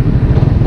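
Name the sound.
Raider 150 Fi motorcycle engine sputtering, starved of air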